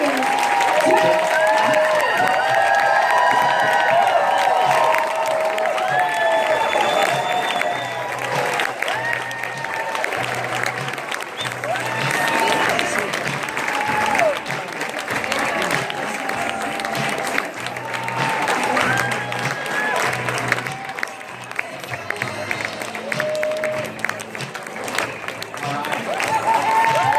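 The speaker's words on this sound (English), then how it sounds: "Give the loudest applause ever for delivering 19 years." An audience applauds and cheers at length for someone honoured for 19 years of service, with steady, dense clapping and crowd noise throughout and voices mixed into the roar.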